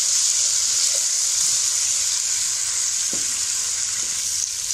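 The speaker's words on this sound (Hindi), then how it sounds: "दालचीनी, बड़ी इलायची, लौंग, काली मिर्च, ज़ीरा और बादियाना फूल, ये हम कढ़ाई में डाल देंगे। 2 मिनट के लिए भून लेंगे।" Whole cinnamon, black cardamom, cloves, black peppercorns, cumin and star anise roast in a kadhai, giving a steady, loud, hissing sizzle with a few faint ticks throughout, and no voices.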